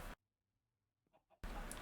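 Minecraft chicken clucking in the game, two short faint clucks in near silence between louder bursts of game sound at the start and end.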